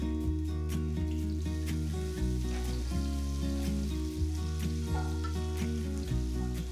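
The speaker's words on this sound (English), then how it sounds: "First add the pound ginger garlic. Next add 1 chopped green chilli." Pounded ginger and garlic with chopped green chilli fry in 1.5 tablespoons of oil in a white pan, giving a steady, close sizzle under a constant low hum, with no one talking.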